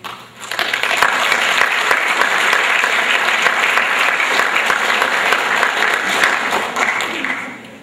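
Loud, dense applause from the audience at a school sports awards ceremony, rising quickly and holding steady as a thick wash of clapping with a faint crowd murmur, tapering off near the end.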